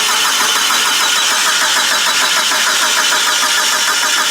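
A turbocharged Mitsubishi Evo 5 engine cranks over steadily, loud and close, with a dense continuous churn and no voices.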